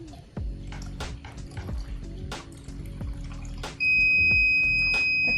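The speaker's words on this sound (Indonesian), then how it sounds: "lampu LED-nya berubah menjadi merah dan buzzernya menyala" Water drips and trickles in a flood-level test rig, then a small IoT buzzer switches on partway through with a loud steady high tone that continues to the end.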